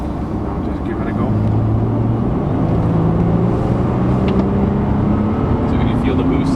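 A car in sport plus mode accelerating, heard from inside the cabin as a steady loud engine drone with gradually rising tones, underneath talk from the occupants.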